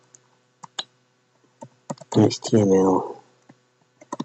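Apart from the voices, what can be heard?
typing a doc type into a Notepad document on a keyboard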